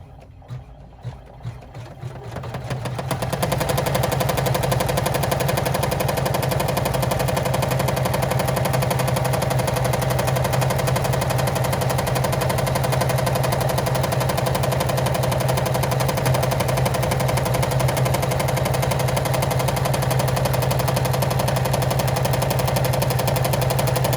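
An embroidery machine running a satin stitch keeps up a fast, even mechanical chatter and hum, starting from a few quiet clicks and then staying steady and close for the rest of the stretch.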